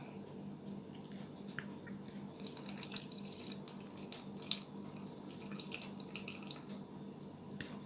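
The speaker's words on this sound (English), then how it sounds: "I just use it to sort of press down on it so it gets out all the water." Water squeezed out of a can of tuna as the lid is pressed down, a faint continuous trickling with small drips and squishy liquid sounds, close by and with no voices.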